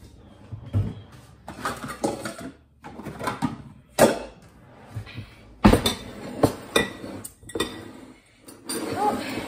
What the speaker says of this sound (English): I should probably get out a bowl.